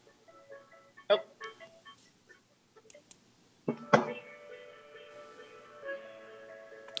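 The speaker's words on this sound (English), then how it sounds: "I hear music playing" Tinkly, bell-like electronic music with sustained tones plays over a remote public meeting call. The tune is mid-level and steady, with a couple of sharper bursts, and no talk is heard over it.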